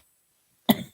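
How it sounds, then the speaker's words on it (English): One short, sharp cough bursts out close to the microphone after a moment of silence, then trails off quickly. "Apologies for coughing"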